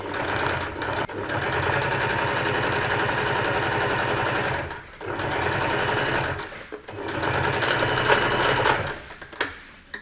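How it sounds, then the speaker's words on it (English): Sewing machine stitching a seam on a sequin tote bag, a loud, close, rapid mechanical whir in long runs broken by short pauses, with faint clicks near the end. "I'm sewing it bigger than I need"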